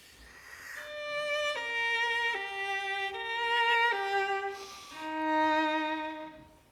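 A slow violin melody from Debussy's main theme, bowed in a German style with heavy bow pressure and a dense tone, notes swelling and connecting smoothly, played alone at moderate volume.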